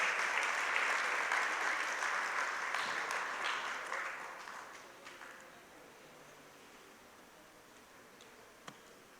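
A church congregation applauds to welcome a speaker, a dense, steady clapping that is loud at first, then thins and fades away over the last few seconds.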